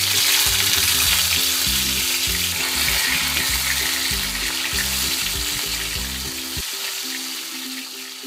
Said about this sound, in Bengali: এখন আমি আলু আর বেগুনগুলো ভেজে নিব।